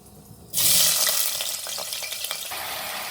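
Potatoes dropped into hot oil in a pressure cooker, a sudden loud sizzle bursting in and settling into steady close frying crackle, with no talking.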